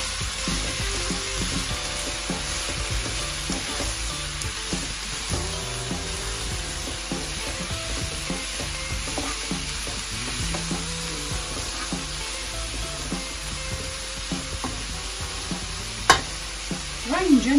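Chopped green celery leaves sauté in a pan for a celery stew with mint and parsley, giving a steady close sizzle with scattered stirring scrapes and a couple of sharper knocks near the end.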